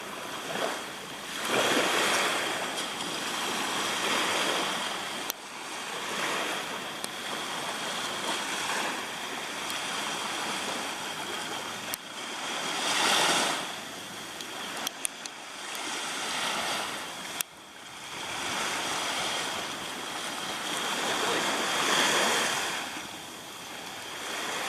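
Waves wash onto a beach at Hopkins Village, Belize, on a rainy day, with steady surf and a swell of breaking waves every few seconds, under constant wind noise and with no talk.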